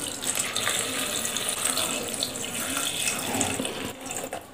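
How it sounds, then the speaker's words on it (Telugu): Water pours steadily from a tap or jug into a pot of goat trotter soup with mint, pepper and garlic paste, a continuous splashing rush that stays close and loud for the whole stretch. "వాటర్ తగినంత పోసుకుందాం"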